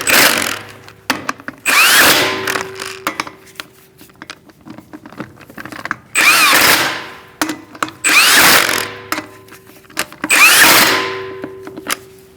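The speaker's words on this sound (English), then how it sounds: "I'm going to walk my wheel up with the bottom lug nut." A power impact tool spins wheel lug nuts on a 2006-2011 Chevrolet HHR in several loud, close bursts of whirring and rattling, separated by short pauses and small clanks of handling.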